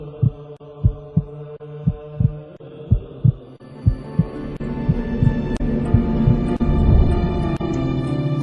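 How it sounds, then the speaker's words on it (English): A heartbeat-like pulse standing in for the Earth's Schumann resonance, steady low thumps about twice a second over a sustained harmonic hum that gradually thickens with added tones. "The earth has a heartbeat. It's called the Schumann resonance"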